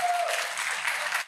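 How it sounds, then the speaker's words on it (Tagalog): An audience claps loudly in a short, dense burst of applause that cuts off abruptly. "Palakpakan lahat ng bobo."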